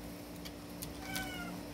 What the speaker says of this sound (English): that's one of my friend's cats.